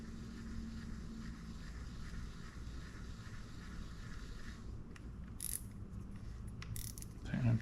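Shimano Caius B baitcasting fishing reel turning slowly after fresh oiling, a steady, continuous mechanical whir with a faint ratcheting texture, close and fairly quiet, with a small knock near the end.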